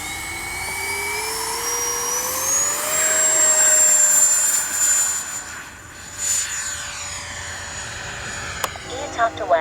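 A Freewing 80mm MiG-21 RC jet flies past with a rising, steady high-pitched ducted-fan whine that swells loud and then fades with a slight pitch drop as it passes.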